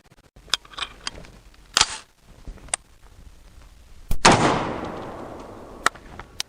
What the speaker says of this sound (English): So this is the first shot with the Fort Scott Munitions 223 Velocity Tactics.